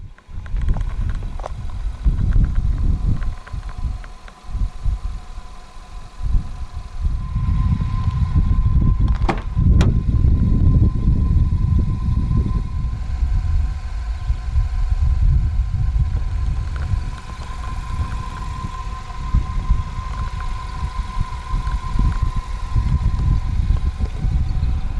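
A 2019 Nissan X-Trail 2.0 2WD engine cranks and settles into a steady, low idle that drones for about twenty seconds, with a short louder burst near the middle.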